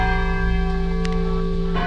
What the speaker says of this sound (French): Les fameuses cloches de la cathédrale de Nantes vont à nouveau retentir 5 ans après l'incendie qui a dévasté l'édifice